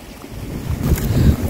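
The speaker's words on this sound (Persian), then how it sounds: "و باد که میپیشه یک صدایی میده." Wind gusts through the trees overhead in wild countryside, a rushing, blustery roar that swells louder in the second half, with wind buffeting the microphone.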